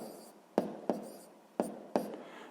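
Pen scratching on paper while a sixth-grade math solution is written out: four sharp, close strokes at uneven intervals over a quiet background, with no talking.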